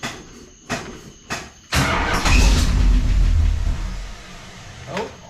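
A 1969 Plymouth Fury III engine cranks in a few short bursts, then catches into a loud, rough roar that fades back down, with a brief final crank near the end.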